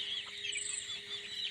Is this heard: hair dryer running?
no